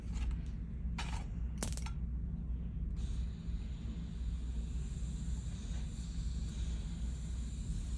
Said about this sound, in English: I'm going to light my torch.